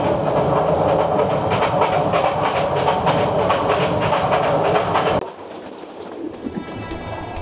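A passenger train runs on the tracks through hilly country past Sitakunda, with a loud, steady rumble and rattle for about five seconds before it drops away to a quieter background with faint clicks.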